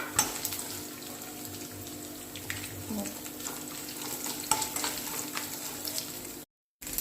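Coconut pieces fry in coconut oil with popped mustard seeds, a continuous close sizzle with soft crackles and occasional stirring scrapes, ending in a brief moment of silence.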